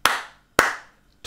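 Hand claps made to line up footage from two cameras: two sharp, loud, close claps about half a second apart, each ringing briefly into the room, with the start of a third at the end.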